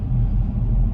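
Steady low rumble of a Toyota Land Cruiser rolling on 285/75/16 tires through city traffic, a continuous, even road and tire drone with no voices.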